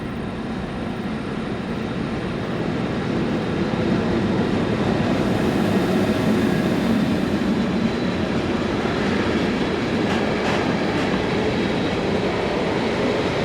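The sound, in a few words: locomotive hauling a short engineer's train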